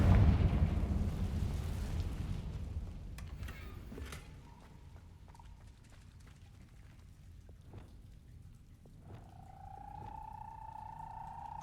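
A Confringo fire-blast spell goes off in Hogwarts Legacy: one loud, close blast opens the clip and fades over a couple of seconds into a low crackling rumble, followed by quiet game ambience, scattered soft clicks and a steady tonal hum near the end.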